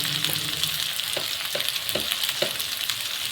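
Liver meat frying in a pan with turmeric, chili, coriander powder and salt, giving a steady close sizzle with a few soft stirring scrapes at intervals and no talk.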